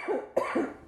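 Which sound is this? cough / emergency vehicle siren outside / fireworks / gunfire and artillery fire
cough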